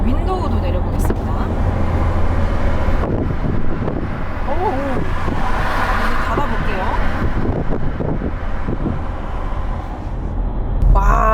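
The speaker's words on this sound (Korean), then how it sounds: "동일하게 시속 80km에서 윈도우도 내려보겠습니다" A Maserati Grecale cruises at 80 km/h with its window lowered, giving a loud, steady rush of wind and road noise. Someone talks over it for most of the stretch.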